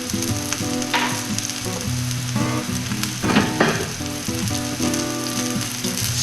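Steak sears in a hot pan with a steady, close sizzle and crackle throughout, punctuated by brief bursts of louder spitting fat.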